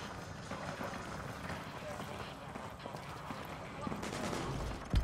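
Gunfire in Call of Duty Modern Warfare 2 crackles as a dense, distant battle at an evac landing zone under heavy fire, with rapid shots blurring into a continuous rattle and a louder burst near the end.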